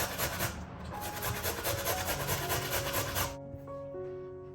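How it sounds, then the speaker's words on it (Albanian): A peeled carrot rubbed against a hand grater for a potato salad, a rapid rhythmic rasping scrape repeated for about three seconds, close and moderately quiet, then stops as faint background tones remain. "më pas marrim një karrotë, të cilën e kam çoruar më parë dhe e grim rende"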